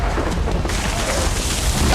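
Thunder rumbling as lightning brings down a huge tree during a storm, a loud dense continuous roar and crackle with heavy noise throughout, no talking.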